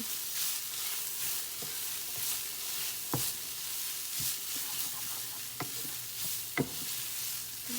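Minced garlic and hamburger meat fry together in a pan, giving a steady close sizzle with occasional sharp clicks and scrapes from stirring, and no talking.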